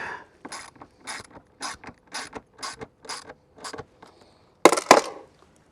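A hand ratchet tightening bolts on a motorcycle tour pack, about nine quick rhythmic clicking strokes close by, ending with a louder sharp rattling burst.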